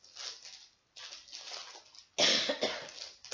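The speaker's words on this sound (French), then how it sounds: "rien que de tousser, ça me fait mal ici." A woman coughs several times in a row, each dry cough a short burst, with the last ones louder and harsher; no speech.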